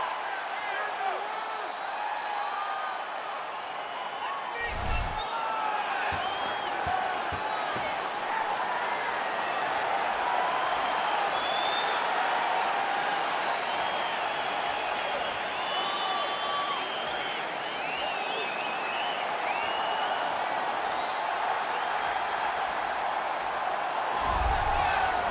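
An arena crowd in EA Sports UFC 4 keeps up a steady, broad roar of cheering for the whole stretch, with a couple of sharp thuds and commentator-style talk running over it.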